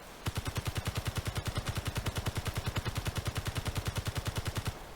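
Rapid automatic gunfire in the game Space Engineers, a fast even train of loud sharp shots fired without pause for several seconds, then stopping abruptly.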